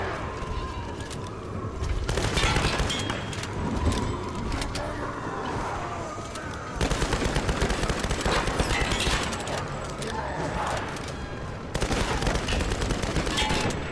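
Enemy gunfire in the Tomb Raider video game, loud sustained automatic bursts and rattling shots in several waves, close and dense, with a player's voice speaking over parts of it.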